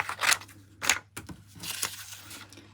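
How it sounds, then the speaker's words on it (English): Scissors snip through the excess paper border around an illustration, giving three or four crisp, close cuts with a crunchy paper rustle between them. "I'm going to show you how to cut with scissors"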